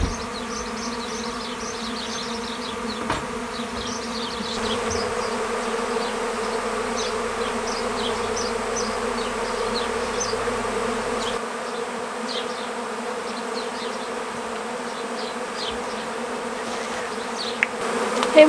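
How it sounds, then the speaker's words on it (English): A honeybee swarm streams into a hive, a dense, steady buzz of many bees all around with individual wingbeats whining past close by, continuous and loud throughout. "Here we are in the middle of a swarm going into a hive."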